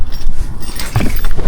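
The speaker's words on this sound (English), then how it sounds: "Keys." Keys jangle in a short, close metallic rattle, repeated in bursts against a low background rumble.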